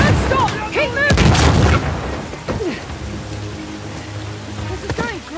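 Heavy rain pours in Uncharted: The Lost Legacy as a dense, loud, continuous downpour, punctuated by booming bursts, with vocal sounds rising over it throughout.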